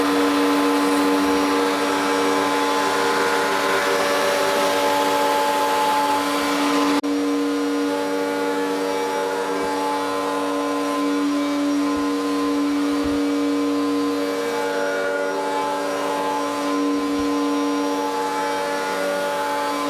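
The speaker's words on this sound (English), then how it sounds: "I'm going to do that on the router table. As you can see, I'm running a 45-degree chamfer bit." A router table whines steadily and loudly throughout as a 45-degree chamfer bit with a bearing shapes the edge of a Shaker style door, with a continuous motor drone and slight shifts in tone as the cut proceeds.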